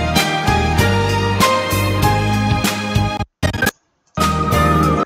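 Shortened TV theme tune, a loud orchestral ending with drums and sustained brass chords, broken by a brief silent gap before a final burst.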